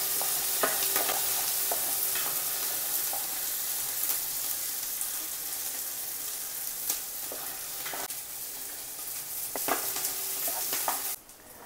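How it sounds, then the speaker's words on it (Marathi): Green chillies and lightly browned garlic fry in oil for Diwali chivda tempering, giving a close, continuous sizzling hiss with scattered crackles and spoon-stirring clicks throughout, then cutting off sharply at the end. "लसूण थोडीशी ब्राऊन झाल्यानंतर मी मिरच्या घातल्यात, कारण मग मिरच्या आणि लसूण एकत्र तळली जाईल."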